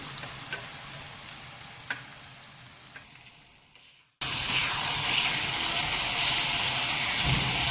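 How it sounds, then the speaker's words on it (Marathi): Onion and tomato masala frying in a pan: a few soft clicks over a quiet background, then a sudden loud, dense sizzle bursts in and continues steadily, close by. "हे आपलं आता फ्राय झालं आहे कांदा टमॅटो"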